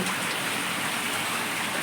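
A heavy downpour pours outside a village home during a power cut, a loud, unbroken rushing hiss of rain on surfaces heard alone and close.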